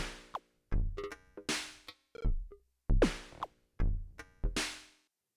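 Electronic percussive hits from the Hammerhead 8x8s bank: about nine separate sharp synthetic strikes with booming low thumps and bright noisy tails, spaced irregularly, close and clear with no voices.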